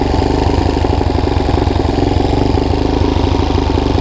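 A 150cc GY6 ATV engine idles on choke at a steady, slightly fast rumble with a dense mechanical clatter, close and loud throughout.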